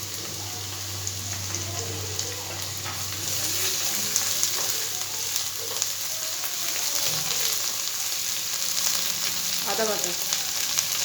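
Garlic paste and browned onion fry steadily in a pan, a continuous close sizzle with crackling spatters and occasional stirring scrapes, no voices.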